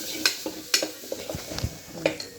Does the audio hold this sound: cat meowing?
no